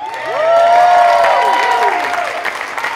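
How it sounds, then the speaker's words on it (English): Applause and cheering from an audience at a spring showcase recital, with loud rising and falling whoops and shouts riding over the clapping throughout. "So big round of applause."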